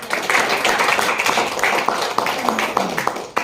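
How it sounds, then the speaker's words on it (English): Scattered, thin clapping from a small audience after a speech at a speakers' forum, with uneven individual claps rather than a full roar. "So a big, huge round of applause for that."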